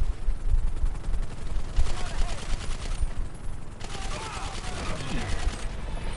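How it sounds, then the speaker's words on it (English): Repeated bursts of automatic gunfire in a video game, rapid loud volleys coming in several waves over a constant noisy background. "Who's shooting?"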